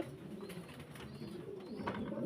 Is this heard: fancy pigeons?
yes